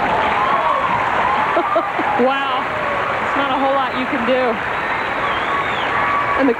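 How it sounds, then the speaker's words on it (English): A tennis crowd at the 1996 Peters International, Monica Seles against Dominique Monami, applauding steadily under clear close commentary talk. "the crowd's appreciating the fine display from Monica"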